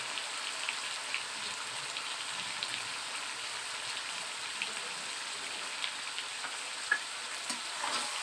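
Chicken coated with spices, salt and tomato paste sizzles faintly in a pan as it is stirred and mixed, a soft, steady crackle with occasional small taps of the utensil.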